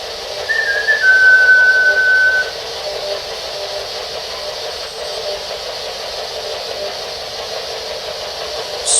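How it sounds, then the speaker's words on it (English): A thin, high whistle sounds from a radio for a couple of seconds during a paranormal investigation, over a steady humming, static-like background. "swear I can hear whistling coming out of that."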